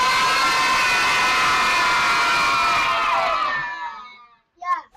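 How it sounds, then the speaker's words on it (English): A crowd of children cheers loudly together in a sustained high roar that trails off after a few seconds, followed by a short spoken voice. "Give us a wave and a cheer if you spotted those elephants."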